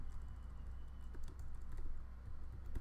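Typing on a computer keyboard, a steady run of soft, close key clicks with a few sharper taps, heard alone over a low background hum.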